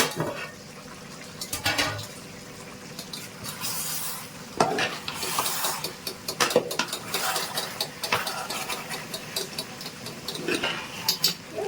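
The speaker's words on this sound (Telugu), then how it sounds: "లో ఫ్లేమ్లో పెట్టుకొని మధ్యలో కలుపుకుంటూ ఉండాలండి" Steady scraping and clattering of a spoon stirring mutton biryani in a metal pot over a low flame, with a soft sizzle underneath and irregular knocks against the pot throughout.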